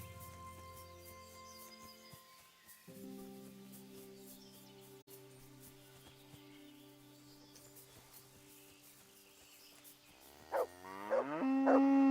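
Long, low cow moos in Kingdom Come: Deliverance, several drawn-out calls in sequence, ending with a louder, closer bellow.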